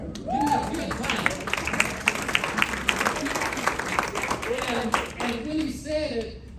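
An audience claps steadily through the whole stretch, a dense patter of hands at moderate volume with voices talking and calling out over it.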